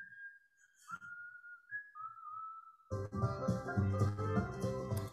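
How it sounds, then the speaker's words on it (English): One person whistles a clear, wavering melody alone for about three seconds before a band of instruments comes in loud and full underneath. "that's me whistling"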